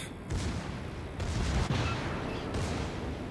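Naval guns fire from the Graf Spee warship in a sea battle game. Several heavy, booming salvos follow one another, with dense rumbling and crackling between them.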